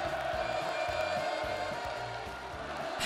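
Large crowd cheering and roaring with whoops at a North Korean building completion celebration night on the East Sea coast, a steady dense wall of voices sustained throughout at even loudness.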